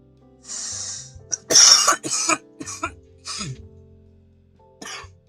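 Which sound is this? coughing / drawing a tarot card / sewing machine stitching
coughing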